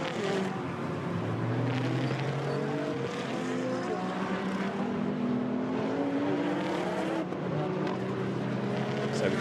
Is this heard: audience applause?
no